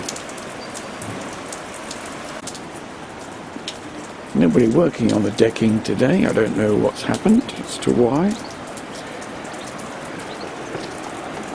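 Steady heavy rain pours down throughout, a dense hiss of falling water spilling onto decking from a new house without a gutter in New Zealand, while someone talks over it partway through.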